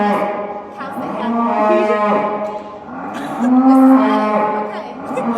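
Dairy cows in a barn pen low loudly nearby, two long drawn-out moos one after another with a short pause between, no talking.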